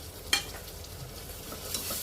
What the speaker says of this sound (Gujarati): હવે એમાં નાખી દે ટામેટા.